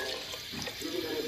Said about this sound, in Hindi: मैं इतना पानी ऐड करूँगी ये दोनों चीज़ें गल जाएँ और थोड़ा सा छोरबा रह जाए